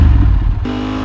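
Motorcycle engine close and loud, a rough low burble that dips briefly then shifts into a steadier higher-pitched tone, short and without talking.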